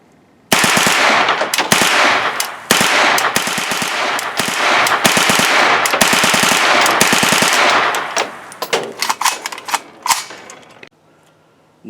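KR9 rifle fired rapidly at a range: long, loud strings of fast automatic shots with brief gaps between bursts, ending in a few scattered shots and then quiet.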